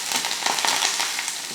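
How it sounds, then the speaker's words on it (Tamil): Curry leaves sizzling in hot oil for a street-style Madurai chutney tempering, a fairly quiet, dense crackling hiss with small irregular pops, heard alone for a brief moment. "இந்த கருவேப்பிலைக்கு சவுண்டு ஜாஸ்தியாக இருக்குது"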